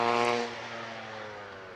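A racing motorcycle accelerates hard off the start line at the Prescott hillclimb, its harmonic engine note loud and close at first, then settling into a slightly fainter, steady drone.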